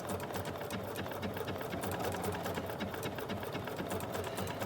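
Close up, a sewing machine works a double blanket stitch around a heart on a Valentine's love letter pillow, giving a steady, dense mechanical whirring hum throughout with no talk.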